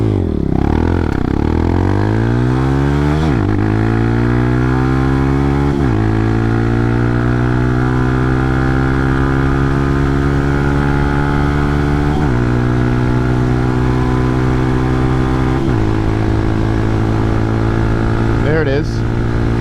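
A Hawk 250 enduro motorcycle launches hard and accelerates up through its gears, the engine note rising in repeated sweeps broken by brief dips at each shift, loud and close throughout.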